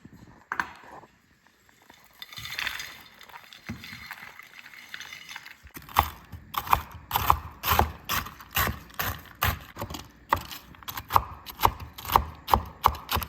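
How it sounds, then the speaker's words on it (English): A knife chops a mix of pecans, cashews and macadamia nuts on a board for a Danish Kringle topping, with quiet handling first, then rapid rhythmic knocks, loud and close, with no talking. "So I'm just gonna chop this up"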